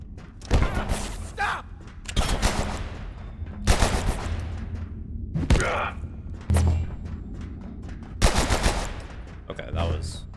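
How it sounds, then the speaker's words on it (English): Gunfire rakes the player in the survival game Abiotic Factor as several loud bursts of rapid shots and heavy thuds, each lasting about a second, separated by short gaps. "Shooting me."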